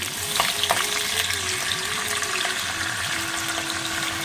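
A dense, steady sizzle and bubbling as half a cup of water hits hot oil with fried green chilies in a pan, close and continuous, with faint stirring.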